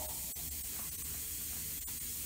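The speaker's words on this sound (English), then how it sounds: "To lubricate it, I'm going to use some Simple Green soap. It's the quickest way, and all you got to do is spray the beads all the way around." Simple Green soap sprayed around the beads of a tire during mounting, a steady continuous hiss of spray lasting throughout, fairly loud and close with no talk.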